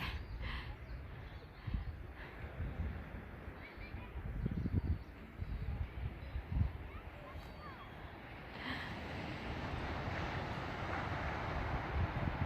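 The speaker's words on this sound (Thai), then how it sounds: "เดินมาถึงฝั่งทะเลแล้วนะ" Wind buffets the microphone at a seashore on the south coast of England, a steady rumbling roar with gusty low thumps, while people talk faintly underneath.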